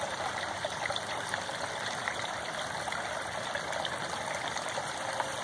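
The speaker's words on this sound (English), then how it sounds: "The bubbly rock is spitting over there." Steady splashing and trickling water from a backyard pond's bubbling rock, a continuous bubbling flow close by with no voices.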